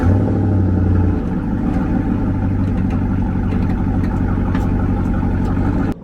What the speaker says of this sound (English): I'm just gonna have to do it the hard way and back the truck up about 2 inches